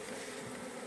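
Honey bees buzz steadily at an opened hive in early spring after winter, a dense, close, continuous hum filling the short moment with no talk.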